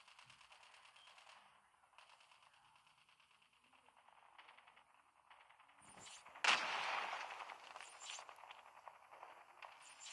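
Gunfire from a shooting video game erupts in a loud burst partway through, after a stretch of quieter mechanical clicks and game noise, then continues as a sustained crackling barrage.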